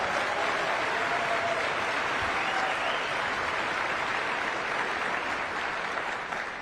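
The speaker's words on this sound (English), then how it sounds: "let's give her a round of applause." Steady, dense applause from an audience at a political event on youth engagement fills the room, even and sustained throughout with no talk on top.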